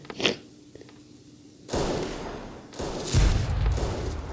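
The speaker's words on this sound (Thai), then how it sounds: "มันมีปืนใหญ่ครับท่านผู้ชม แล้วปืนใหญ่เราอยู่ไหน" Artillery fire in the Rusted Warfare strategy game: a sharp blast, then heavy booming thuds and rumbling impacts in bursts, loud and close, with brief quiet gaps between them.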